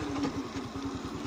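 A farm water pump motor runs at night, feeding drip irrigation. A steady low mechanical hum throbs evenly with a fast rhythmic pulse and stays at a constant moderate level throughout.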